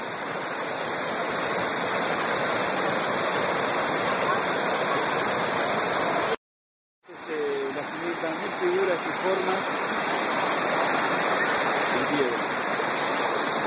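A forest river near El Bolsón rushes toward a hidden waterfall, a loud continuous roar of water broken by a brief cut, with a voice speaking over it in the second half.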